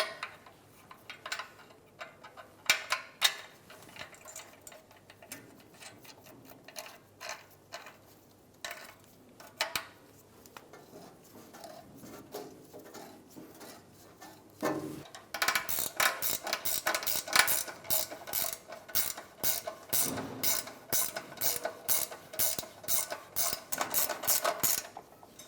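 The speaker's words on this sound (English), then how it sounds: "and tighten down the nut" Ratcheting wrench tightening the exhaust spring bolt nut on a 2003-2008 Subaru Forester's intermediate resonator pipe: scattered metallic ticks at first, then a steady run of rapid, loud ratchet clicks close by, no talking.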